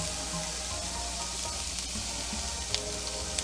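Onions frying in a pan, cooking down for Moroccan couscous with smoked sausage, making a steady close-up sizzle with a few faint clicks near the end and no talking.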